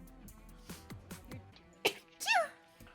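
A small, squeaky sneeze, high-pitched and close, follows a few faint scattered sounds in a quiet room.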